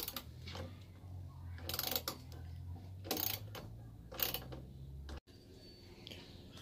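A hand ratchet tightening bolts on Sprinter van running board mounts, with repeated bursts of rapid clicking over a steady low hum, close and fairly faint.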